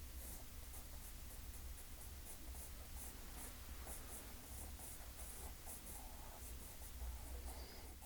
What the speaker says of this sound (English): And sometimes you just want to use precision with color pencils. Notice the sounds that they make.